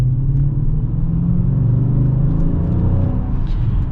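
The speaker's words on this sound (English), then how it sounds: "But anyways, let's get an acceleration now." A 2020 Dodge Challenger Scat Pack muscle car accelerates on a road in Provo, producing a loud, deep, steady engine rumble heard from inside the car for several seconds without speech.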